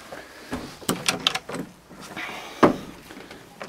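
The wooden French doors of a forest yurt open with a string of latch clicks, knocks and a sharp thump, close and fairly loud against a quiet background.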